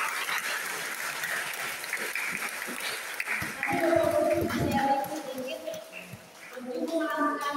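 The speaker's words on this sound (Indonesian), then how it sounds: "Mari kita tepuk tangan dulu Bapak Uskup" An audience applauds a bishop at a thanksgiving celebration for a nun's 25 years of religious life, steady clapping filling the room throughout, with some voices and tonal sounds rising over it partway through.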